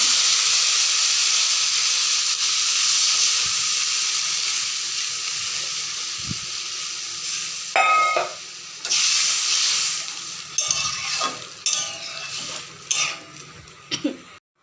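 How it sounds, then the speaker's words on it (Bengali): Fish curry gravy with green banana and hilsa simmers in a pan, a steady bubbling hiss that later gives way to clanks and scrapes of utensils against the pot. "এইবার দেখুন ঝোলটা ফুটছে"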